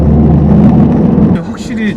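Inside a Porsche 911 992 Carrera 4S on the move, a loud, steady engine drone fills the cabin before easing off, as voices start talking over it near the end.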